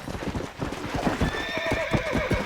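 Horse hooves clip-clop steadily and close in the Red Dead Redemption video game, a brisk repeating rhythm of hoofbeats with a brief whinny-like tone partway through, heard alone without talk.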